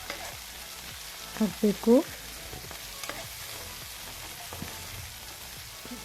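Tomatoes and onions fry together in a pan for a pepper chicken masala gravy, giving a low, steady sizzle and faint stirring throughout, with a short spoken phrase near the start.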